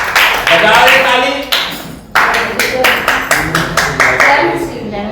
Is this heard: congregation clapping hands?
yes